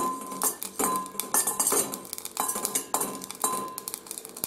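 Repeated metallic scraping and clinking of a spatula against a pan while dry roasting cumin seeds, a steady rhythm of stirring strokes close by, with no talking.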